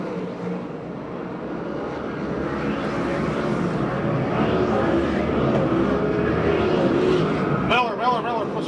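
USAC/CRA sprint cars racing at Perris, California, a continuous loud roar of engines circling the track under an excited announcer's voice, rising in intensity toward the end.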